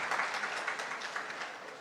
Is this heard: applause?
yes